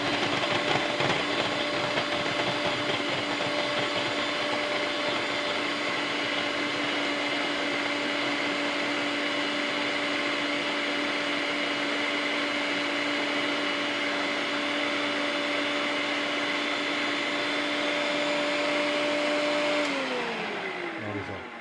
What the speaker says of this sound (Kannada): ಫುಲ್ ಚಾಪಿಂಗ್ ಆಯಿತು ಈರುಳ್ಳಿ ಕಂಪ್ಲೀಟ್ ಡನ್